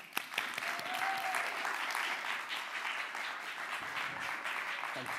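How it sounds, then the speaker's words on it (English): A TEDx audience at Columbia College applauds a speaker, with dense sustained clapping from the crowd, fairly even and moderately loud, with a few sharper individual claps near the start. "let's give a round of applause for my friend"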